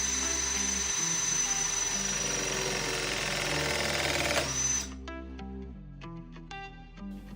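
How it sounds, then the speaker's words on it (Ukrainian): A REMS hand press tool runs a steady, loud motorised whine while crimping a pipe fitting, then stops abruptly. Quieter clicks and taps follow close by. "Затискаємо і починаємо пресування."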